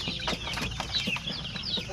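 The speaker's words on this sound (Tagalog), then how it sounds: "So yan yung ibang mga sisiw." Native chicken chicks on a farm in the Philippines peep and cluck in short, overlapping high calls, fairly close and moderately quiet, with no talking.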